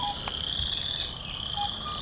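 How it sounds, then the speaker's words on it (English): Western chorus frogs and wood frogs calling in a wetland, a dense continuous chorus of trilling and growling croaks surrounding the listener, steady and fairly loud. "You hear all around you both the calls of the western chorus frog and the sort of growling call of the wood frog."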